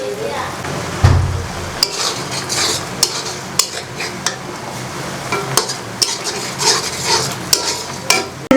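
A fish curry cooking with cumin paste, garlic paste and turmeric sizzles steadily in a pan while a spatula scrapes and clinks against the metal in irregular strokes, close and clear.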